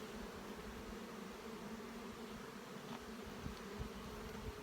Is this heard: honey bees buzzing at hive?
yes